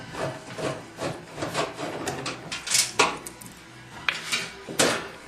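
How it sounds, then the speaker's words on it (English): A washing machine's front panel is pulled off after its last screw is taken out, giving a run of scraping, rubbing knocks and clunks with sharp peaks near the end, nearby with no speech. "And the panel is removed."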